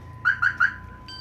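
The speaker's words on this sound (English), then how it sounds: "I like this alarm." A car alarm gives three quick chirps close by, followed by a short tone, in a quiet setting.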